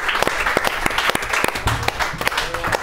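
An audience on a talk show applauds as a singer is brought on: loud, ragged clapping with sharp individual claps standing out and a few stray voices under it.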